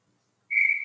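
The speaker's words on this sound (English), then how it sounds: "We'll get the whistle." A referee's whistle at an ice hockey game between the Allegheny Badgers and Canton-Akron Jets blows once after a shot is covered, a single sharp, steady blast starting halfway through and sounding loud and clear.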